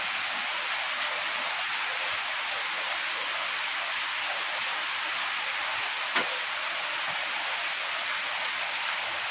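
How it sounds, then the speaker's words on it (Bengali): Lukewarm water pours steadily into flour for soft naan dough, a continuous bright hiss-like splash that stays even throughout, close and fairly loud, with no voices. "অল্প জল দেবো।"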